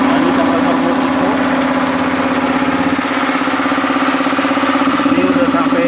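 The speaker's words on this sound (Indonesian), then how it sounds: "ini kompresor Multico" A Multipro 180-volt electric air compressor running under load, a steady, loud mechanical drone with a rapid pulsing chug, continuous throughout.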